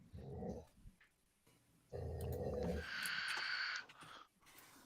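A dog growls low and rumbling in the background indoors, in two long stretches with a short whimpery sound between.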